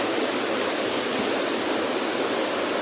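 Ocean water surges through a beach blowhole as the tide rises, giving a continuous loud broadband roar and rush of water with no break.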